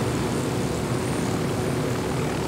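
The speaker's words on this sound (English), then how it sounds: "I might bail out of the helicopter and come in by parachute." A helicopter flying at night in Ghost Recon Wildlands gives a steady, loud rotor-and-engine roar that holds without a break throughout, with no voices over it.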